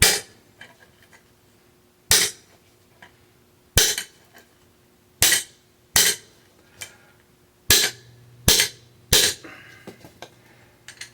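A bicycle fork crown race is hammered off over a mat on an old cement floor, seven or eight sharp metallic blows at uneven intervals, each ringing briefly, close and loud.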